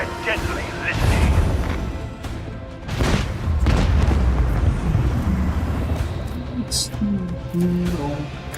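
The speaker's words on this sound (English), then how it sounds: "Let the macro cannon sing their deadly litany." Heavy booming cannon blasts from a warship's macro cannons in the Warhammer 40,000 game Rogue Trader, loud deep thuds around one and three seconds, followed by sustained rumbling with a voice speaking over it.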